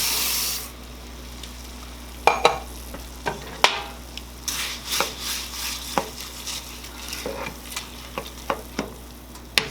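Water bubbles and hisses steadily in a pot as rice is added, while a utensil scrapes and clinks against the sides in irregular stirring strokes.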